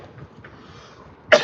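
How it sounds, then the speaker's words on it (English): A single short, loud cough bursts out near the end after a quiet stretch of faint background noise, coming from a person with a lingering itchy cough during a workout. "I just have a little bit of itchy cough still"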